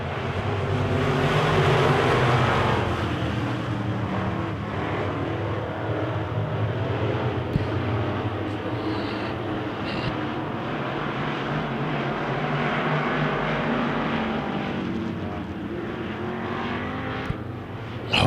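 Wissota Midwest Modified race cars on a dirt oval under a green flag, a loud, continuous pack of engines roaring and droning together, the noise swelling and easing slightly as the field circulates.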